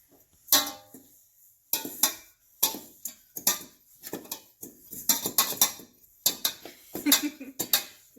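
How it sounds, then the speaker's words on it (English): Hot cross bun dough being mixed in a bowl: irregular bursts of scraping and clinking from a utensil against the bowl, separated by short pauses, close and fairly loud with no talking. "we're just going to mix this together"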